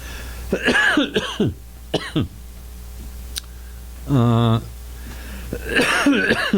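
During a lecture, several harsh coughs and throat-clearing bursts break up stretches of talking, with a few small clicks in between.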